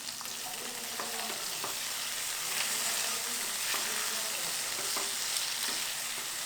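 Two onions and a capsicum sizzle steadily in hot oil in a home kitchen pan, a dense, even frying crackle with faint stirring scrapes, close and continuous with no talk.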